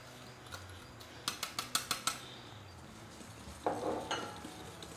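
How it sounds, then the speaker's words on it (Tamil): Eggs are whisked in a bowl for a chocolate peanut butter banana cake, a quick burst of sharp metal clinks against the bowl followed by softer scraping and a few more taps. "இப்போ இத வந்து ஒரு விஸ்க வச்சு நல்லா பீட் பண்ணிக்கோங்க"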